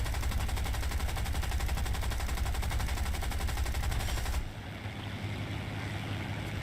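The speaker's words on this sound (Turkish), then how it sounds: "Abi bu tanklar nasıl sıkıyor böyle ya." Rapid, continuous gunfire from tanks in the War Thunder combat game, a dense rattling burst with engine rumble that cuts sharply and drops to a quieter rumble partway through.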